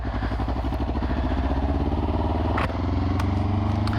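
A motorcycle engine runs steadily with a rapid, even pulsing putter, close and fairly loud, with a brief clatter partway through and no talking over it.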